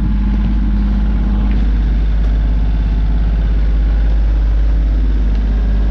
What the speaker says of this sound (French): quand on navigue au moteur, c'est pas très agréable à l'intérieur